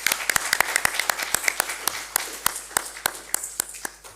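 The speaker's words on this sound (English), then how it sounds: "the big applause for Hugo." A small audience at a smart city applications conference gives applause, with sharp individual claps standing out near the microphone over a thinner spread of clapping from the room.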